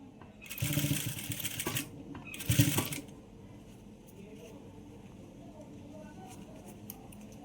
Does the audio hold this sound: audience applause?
no